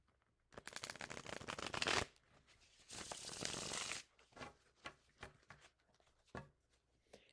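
A tarot deck being shuffled by hand, with two loud bursts of rapid riffling and fluttering card noise, followed by softer scattered taps and card handling.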